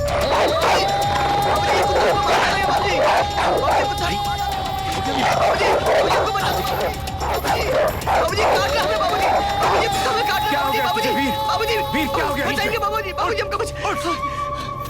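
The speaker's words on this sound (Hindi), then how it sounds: "बाबूजी कुत्ता मुझे मार देगा।" A dog barks repeatedly in a busy scene, sharp yips and bow-wows mixed with excited overlapping voices and background clatter, loud and continuous throughout.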